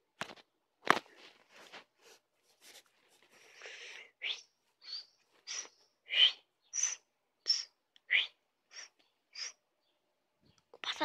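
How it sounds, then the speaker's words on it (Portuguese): A small bird whistles in a repeated series of short, clear chirping notes at a steady pace indoors at home, following a person's whistling, with a few brief noises near the start. "O passarinho tá me imitando por acaso. Eu assobiando, ele assobiando também."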